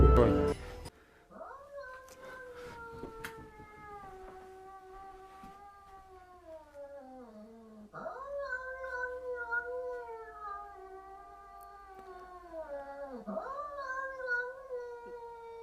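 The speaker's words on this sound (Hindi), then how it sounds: "एक अजीब आवाज़ सुनाई देती है जैसे कोई बिल्ली हो" A long, drawn-out cat yowl, wavering and rising and falling in pitch, repeating in two extended howling phrases with quiet background between.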